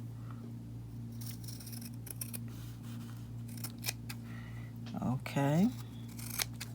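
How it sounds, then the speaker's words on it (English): Scissors snip through African print fabric pieces for tassel earrings in a series of short, close cuts, with a loud burst of snipping near the end, under a steady background hum and a brief spoken word. "I'm going to just cut off the pieces that kind of like"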